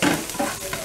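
Tortang talong, an eggplant omelette, fries in a pan with a soft, steady sizzle and a faint stirring scrape, heard briefly and alone.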